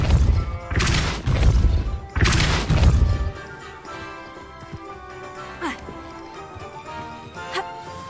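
Depulso spell impacts in Hogwarts Legacy, two heavy crashing thuds with crackling bursts in the first seconds, followed by quieter game ambience with faint whooshing chimes.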